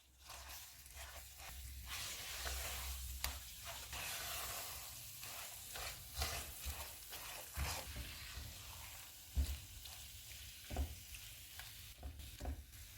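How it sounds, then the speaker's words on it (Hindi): Date paste roasts in a pan for khajoor halwa, a soft crackling sizzle broken by repeated scraping strokes as it is stirred, moderately quiet and with no voices. "अब इसमें हम खजूर वाला पेस्ट डालेंगे। इसको 4 से 5 मिनट तक भूनेंगे।"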